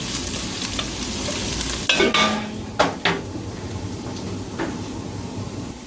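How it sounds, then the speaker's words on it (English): Garlic sizzling in a pot for cottage pie, with a steady close frying hiss broken by several sharp scrapes and clanks of a spoon stirring against the pot. "once you start to smell that garlic is when you want to stir it into everything else"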